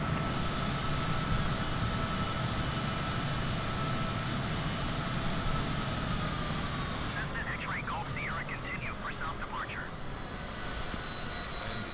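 An airliner climbs out after takeoff in Microsoft Flight Simulator 2020, its jet engines a loud, steady roar with a high whine on top, while someone talks briefly over it.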